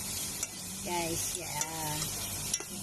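Cream with garlic sizzles in a pan with a steady frying hiss, broken by stirring scrapes and a few sharp utensil taps. A voice speaks briefly.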